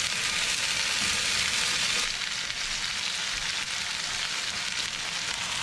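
Fondant potatoes sizzle flat side down in a pan over medium-high heat, a steady, close, dense frying crackle that stays loud throughout with no talking.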